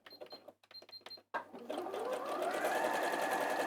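Domestic sewing machine running a narrow zigzag stitch on fabric backed with bonding web, a few short stop-start bursts followed by a steady continuous whirring run, close and fairly quiet.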